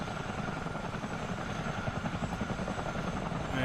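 A CH-47D twin-rotor helicopter taxiing in a flight simulator game, its steady loud rotor chop and turbine whine filling the whole stretch with a continuous, even drone.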